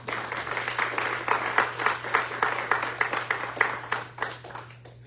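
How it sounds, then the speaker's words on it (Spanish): A church congregation claps together in a steady rhythmic applause, a dense, lively patter of many hands that rises and then tapers off near the end, with a low hum underneath. "Denle un aplauso al Señor."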